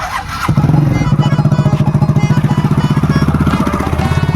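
A new Bajaj Pulsar motorcycle engine starts up and settles into a steady, rapid idling putter, close and loud.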